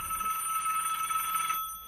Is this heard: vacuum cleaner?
no